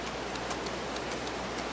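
Steady rain falls in Farming Simulator 22 on a Missouri farm, a soft continuous patter with faint repeating ticks, heard alone with no voices.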